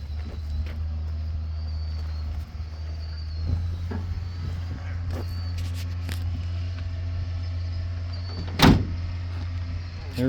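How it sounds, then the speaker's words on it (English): Cars passing on a nearby road at a metal detecting site, a steady low traffic rumble with a loud close vehicle swish near the end and people talking over it. "Sorry about the noise with the cars."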